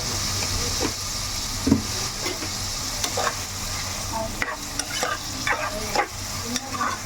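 Onions fry and sizzle in a pan in a home kitchen, a steady close hiss broken by frequent stirring scrapes and clinks.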